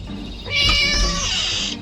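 A cat meows in the Scary Teacher video game, one drawn-out, whining call lasting over a second, loud and close, with no talking over it.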